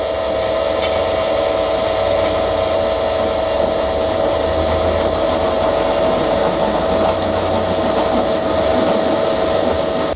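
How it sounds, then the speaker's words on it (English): A power drill bores steadily through metal panel on a crashed HSV car under repair, a loud, continuous high-pitched whine with a grinding edge that holds unbroken for about ten seconds, no talking. "you just drill that the whole way through"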